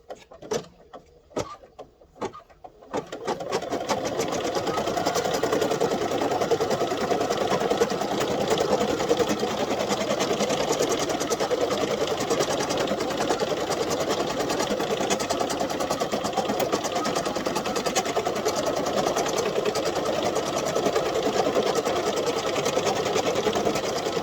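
A sewing machine stitching down an applique tack-down line on a strawberry coaster, running in a steady, loud, continuous whir after a few brief opening stitches.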